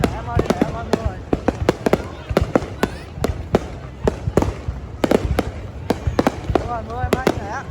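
Fireworks at a Vietnam National Day celebration in Bạc Liêu crack and boom in rapid irregular bursts, some close and sharp, with whistling rockets and crowd voices talking throughout.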